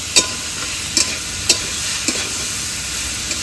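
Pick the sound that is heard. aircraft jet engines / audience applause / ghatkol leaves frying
ghatkol leaves frying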